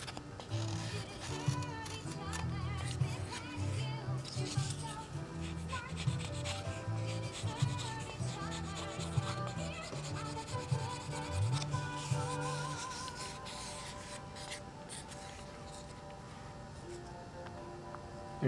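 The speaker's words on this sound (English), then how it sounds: "The rest I can sand down." Sanding a wooden cockpit part for a model airplane, a steady rhythmic rubbing scrape of sandpaper on wood that continues close and even for most of the clip, fading slightly toward the end, with no talk.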